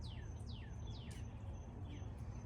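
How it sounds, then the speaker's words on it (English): Birds sing outdoors in the morning, a quick series of descending chirps and whistled notes repeated several times over a low steady background hum, faint and somewhat distant. "Do you hear the birds sing?"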